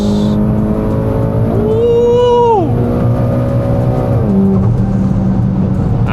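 A Mitsubishi Lancer Evolution X FQ440-MR engine revs hard in second gear toward a redline above 7500 rpm, a loud raw close-up drone that climbs, shifts and settles into a steady high whine.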